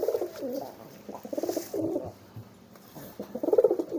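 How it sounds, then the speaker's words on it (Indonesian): A homing pigeon coos in repeated throaty bursts, close and fairly loud, with short pauses between phrases and no talk. "Wih, ini kok bekur-bekur ya."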